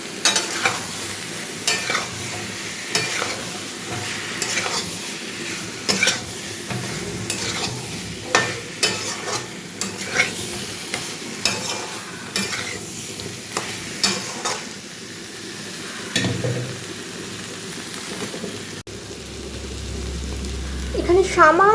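Fried potatoes being stir-fried into a spiced masala for dum aloo kosha, giving a steady sizzle with repeated spatula scrapes across the pan; a voice speaks briefly partway through.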